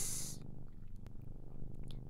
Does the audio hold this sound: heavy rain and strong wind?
no